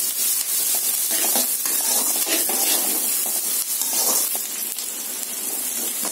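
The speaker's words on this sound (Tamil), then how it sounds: "வெங்காயம் வந்து நல்லா வதங்கிடுச்சு." Sliced onions frying in oil until golden for a snake gourd koottu, a steady close sizzle with occasional stirring clicks, no voices.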